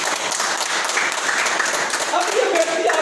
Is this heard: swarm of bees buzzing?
no